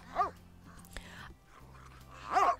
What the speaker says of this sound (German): es bellt und wiehert und schreit und mampft in allen möglichen Variationen